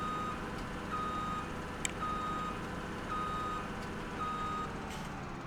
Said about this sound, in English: that first beep when it starts up, it's so loud